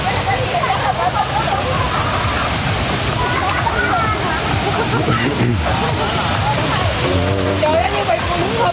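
A waterfall on a cat farm gives a steady, even rush of falling water throughout, with people chatting loudly over it.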